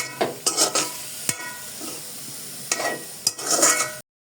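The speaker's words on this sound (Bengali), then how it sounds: "এরপর আমি শাকগুলোকে একটু ভেজে" Khesari greens being fried in a pan for a Bengali shak vaji: bursts of sizzling and stirring scrapes in short clusters, with a sharp utensil tap against the pan and quieter gaps between, close and moderately loud.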